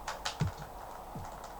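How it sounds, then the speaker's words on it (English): A few quiet, separate computer keyboard key presses while playing the old football game SWOS 96/97, with short clicks spaced irregularly and no talk. "you can play it on the keyboard"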